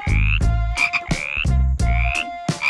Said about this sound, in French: On commence par les grenouilles